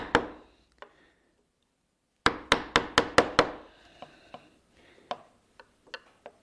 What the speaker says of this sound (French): le ciseau bien vertical. Et ensuite, on va commencer à aller creuser